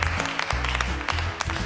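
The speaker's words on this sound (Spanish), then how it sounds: "O este famoso aplauso incómodo que no estaba en el guión." Awkward, unscripted applause from a Joker film scene: a dense, steady patter of clapping lasting under two seconds, mixed with a low sustained tonal hum and a few sharper claps standing out.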